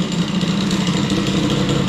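A 50cc moped engine fitted with Stradivario parts, including a 500-gram variator, runs steadily nearby, a loud continuous buzzing drone without pauses.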